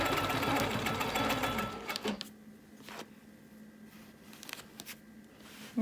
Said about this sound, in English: I'm just going to stitch one side.